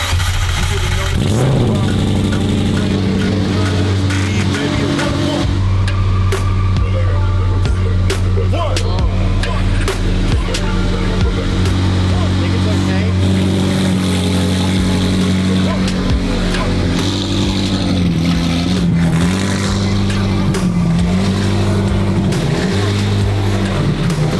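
A McLaren 720S GT race car engine starts and runs, its loud, steady drone shifting pitch now and then over some twenty seconds, with people talking over it.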